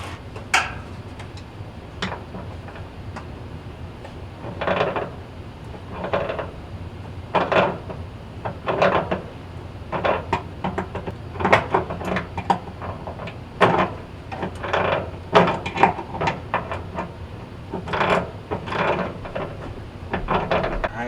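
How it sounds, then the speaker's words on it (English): Repeated clicks, knocks and scraping thuds from working a pulley off the blower wheel of a Whirlpool dryer, irregular bursts of metal and plastic handling spread across a quiet room. "we need to hold it in place while we rotate the pulley off, or it's just going to spin on us"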